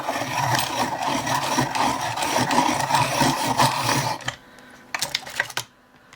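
A Derwent twisty-handle pencil sharpener grinds a colouring pencil in a steady, gritty rasp for about four seconds, followed by a few short scraping clicks before falling quiet.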